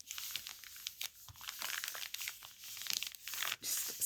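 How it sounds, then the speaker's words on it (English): Paper crinkled and smoothed out by hand, a steady stream of dry crackling and rustling with sharp crisp bursts, close and fairly quiet, with no talking. "Just smoothing out some of that crinkleness"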